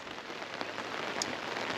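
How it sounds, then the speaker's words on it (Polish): Steady rain patters on tents at a commercial fishing lake in the Netherlands, a soft, even hiss with no voices. "Znowu super deszcz."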